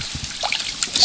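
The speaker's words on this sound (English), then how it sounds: "I want to get the water out of my kale. Going to wrap it up in this kind of fun beach towel." Water squeezed out of kale wrapped in a beach towel trickles and dribbles in short, close bursts of dripping liquid.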